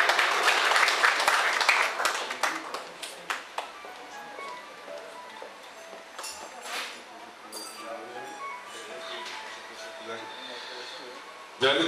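At an evening gathering in a café, an audience claps to welcome Akif Yener. The applause is loud at first and thins out over a few seconds, and then light clinks and background chatter carry on beneath it.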